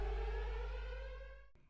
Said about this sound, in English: And then to the sound of a siren